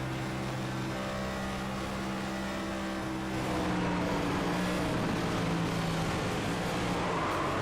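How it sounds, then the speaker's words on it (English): Race car engine and tires in the iRacing sim, a NextGen stock car in an online cup race, steady loud engine drone with tonal whine that rises and shifts midway as the car squirms and is corrected. "Let's listen on in here how these tires sound and how he has to then re-maneuver the car."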